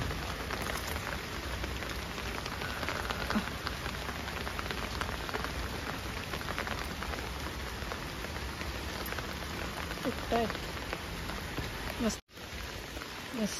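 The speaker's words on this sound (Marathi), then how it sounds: "मस्तपैकी वातावरण पावसाचं." Rain falls steadily on the surrounding surfaces, a dense continuous hiss with scattered drops pattering nearby, cut off briefly near the end, and faint voices are just audible under it.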